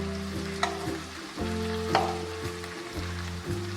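Chicken frying in a pan, close sizzling with repeated scraping and stirring strokes of a utensil at a fairly even pace, no voices.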